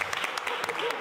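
Audience clapping on a Nigerian television game show set; a brief, lively burst of applause with sharp individual claps under background voices.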